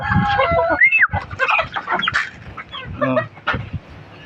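Chickens on a farm cluck and call in the afternoon at feeding time, with a few bird calls standing out nearby while someone speaks over them.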